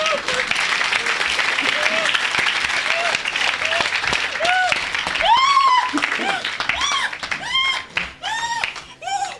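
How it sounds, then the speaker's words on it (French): A crowd at a religious gathering applauds and cheers for Jesus Christ, with dense continuous clapping and scattered shouts and vocal calls rising over it. "Acclamez pour Jésus-Christ."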